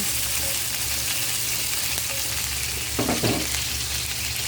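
Onion is stirred and fried with egg in a pan, a dense constant sizzle heard up close with a brief scraping stir near the end and no voices.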